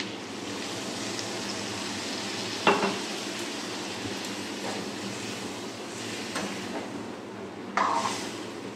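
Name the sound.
water added to frying prawn gravy, sizzling and stirring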